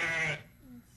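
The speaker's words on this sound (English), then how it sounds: "Sheep." A single short sheep bleat, loud and close, fading within half a second and leaving a quiet tail.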